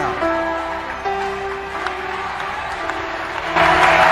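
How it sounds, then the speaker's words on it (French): An audience at a religious gathering claps and cheers in a diffuse, roomy wash, growing louder toward the end, with some talking mixed in. "Tout le monde applaudit, ils sont contents."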